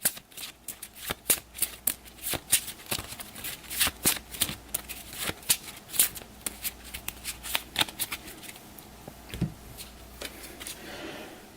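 A deck of event cards for the B-17 Flying Fortress Leader board game is shuffled and cut, giving a long run of crisp, rapid riffling snaps and flutters, close and fairly loud, with no talking.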